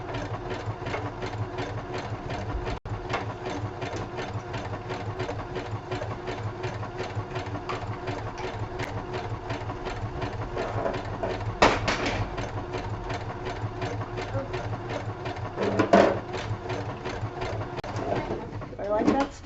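A sewing machine runs steadily while stitching pocket fabric for a craft project, a continuous fast mechanical whir that starts slow and speeds up, with a few brief louder bursts; people talk over it now and then.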